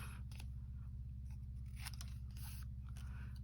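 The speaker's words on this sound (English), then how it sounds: "And then I'm just going to cut that bit off." Scissors snip through paper while trimming a book-page collage piece for a junk journal, giving a series of short, crisp cuts at an uneven pace over a steady low hum.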